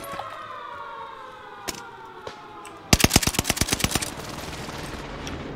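A rapid burst of automatic gunshots in the video game Rebirth, sharp and close, following a few isolated single shots over steady ambient game noise.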